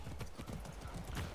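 Horse hooves clip-clop in Far Cry 6, a quick run of soft, fairly faint hoofbeats over a brief moment.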